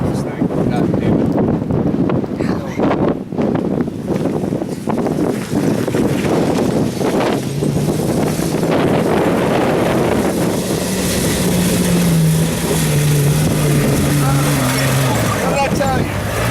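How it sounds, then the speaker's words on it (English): Strong wind battering the microphone while a 4x4 drives through desert dunes at Superstition Mountain OHV, a loud continuous roar with a low engine drone rising beneath it and occasional voices mixed in. "still driving through a very windy dune"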